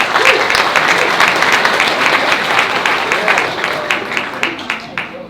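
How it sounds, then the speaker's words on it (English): An audience at a live group meet-up gives a round of applause for the parents, with a steady burst of many hands clapping that thins out into scattered claps. "So let's just give a round of applause for all the parents."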